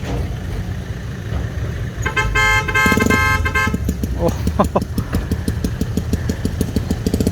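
A modified Thai truck sounds a loud three-tone horn in bursts over a running engine, followed by rapid rhythmic pulsing blasts, with voices in the background.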